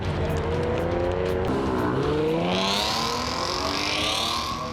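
A 2016 Chevrolet Camaro pre-production prototype, alongside a fifth-generation model, runs a track at Belle Isle in Detroit, its loud engine revving steadily throughout with rising and falling pitch as it shifts, tires squealing near the end.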